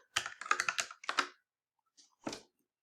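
Typing on a computer keyboard: a quick close burst of crisp key clicks, a short pause, then a few more scattered taps, loud and clear in a quiet room.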